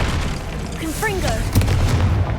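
In Hogwarts Legacy, a Confringo fire-blast spell explodes with a boomy burst over a dense background of game effects and rising whooshing tones, then a sharper crack near the middle.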